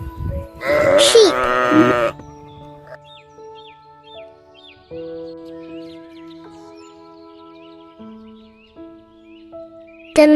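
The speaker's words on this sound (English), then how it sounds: "Sheep." A sheep gives one loud, wavering bleat near the start, then a quiet stretch of faint birdsong and sustained tonal background follows, with another brief sound cutting in at the very end.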